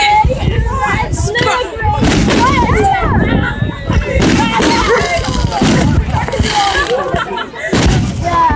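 Bonfire night fireworks burst in a dense, continuous barrage of loud bangs and crackles, with excited voices and crowd chatter mixed in throughout.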